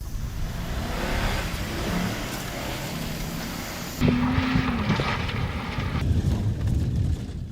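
Old Land Rover trucks roar off the line in an uphill drag race, engines revving hard and loud as they accelerate, with a sharp rise in intensity midway and outdoor wind noise throughout.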